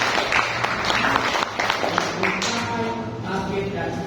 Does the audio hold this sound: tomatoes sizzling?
no